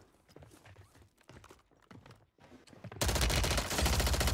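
Rapid automatic gunfire in the Warzone video game, faint scattered shots at first, then a loud sustained burst of fire close up.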